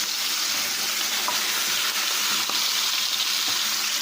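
Pork neck bones sear in a hot pan, giving a loud, continuous, even sizzle with a few faint pops and ticks and no talking.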